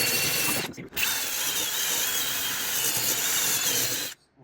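A wire wheel on a power tool grinds steadily against metal pipe, loud and close with a constant harsh whir, briefly dipping early on before cutting off near the end.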